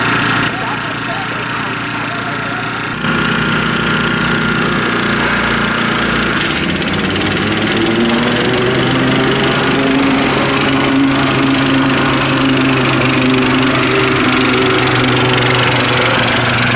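A lawn mower engine runs steadily while cutting grass, loud and continuous, its pitch rising as the throttle is opened partway through, with voices faintly underneath.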